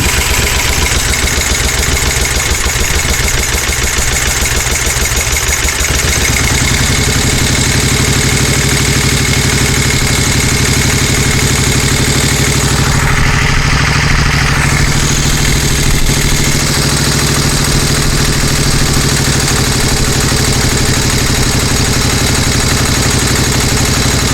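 Engine fitted with an Amal 930 carburetor runs steadily as the throttle stop is adjusted, a loud continuous idle with a mechanical clatter and a slight shift in tone partway through.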